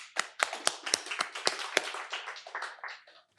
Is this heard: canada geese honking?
no